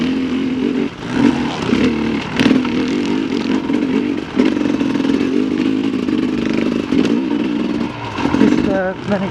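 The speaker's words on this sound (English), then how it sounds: "That sort of little motor rattle, I reckon, is when I'm lugging it, it's just a little bit too much." Shreco 300 SE motorcycle engine lugging at low revs with a slight motor rattle, a steady close, loud drone with small clatters and surges throughout, ridden off-road over tree roots.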